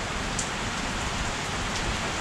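Heavy rain pours down in a dense, steady hiss of drops on surfaces, with faint sharper patters now and then and no voices.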